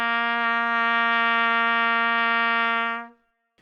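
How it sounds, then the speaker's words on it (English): A trumpet sustains a single steady low open-valve note for about three seconds, clear and close, then it stops cleanly. "So the first note we're going to play is position 1, and it's the lowest note you can play with open valves"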